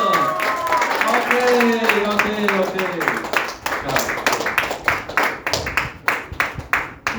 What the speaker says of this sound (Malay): So kita punya tepukan yang gemuruh.